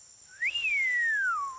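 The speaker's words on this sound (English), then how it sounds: "I've got a bad whistling habit" A cartoon character gives a single clear whistle that rises quickly, then glides slowly downward for over a second, loud and close with no talking over it.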